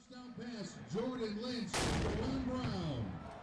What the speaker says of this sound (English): the cannon is fired off after every Husky touchdown